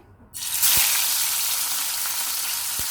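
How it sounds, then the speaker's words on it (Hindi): Fish pieces dropped into hot oil, for a Sindhi seyal fish dish, set off a sudden loud, close, hissing sizzle that swells quickly and then holds steady, with a couple of faint low knocks. "तो तेल हमारा गर्म हो चुका है। अब हम इसमें फ़िश को फ्राई कर लेंगे।"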